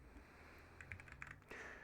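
A handful of quick keystrokes on an English-layout computer keyboard, short clicks in a brief burst followed by a longer key press, heard fairly close under a steady low room hum.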